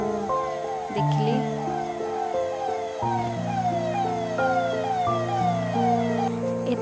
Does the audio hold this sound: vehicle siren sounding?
yes